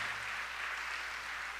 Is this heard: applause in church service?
yes